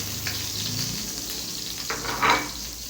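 Onion sizzles in a pan of hot oil with garlic for ginisang upo with ground meat, a continuous close crackle with a brief louder burst of spatter near the end.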